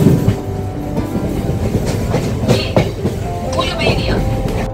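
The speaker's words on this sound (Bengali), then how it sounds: "সাকরাইলে হল্ট দিয়ে ট্রেন এবার চলেছে আবাদার দিকে।" Local train running from Howrah toward Uluberia, a steady rumble with rhythmic wheel clatter on the rails and some rattling from the carriage, heard continuously from onboard with faint background voices.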